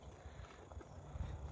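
A horse's hooves clip-clop faintly at a steady walking pace under quiet outdoor background noise.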